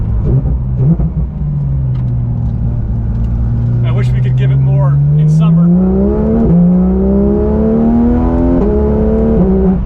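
Porsche 911 engine revving hard under acceleration, pitch climbing steadily then dropping abruptly with each lightning-fast gear shift, loud and close from inside the cabin, with people talking over it.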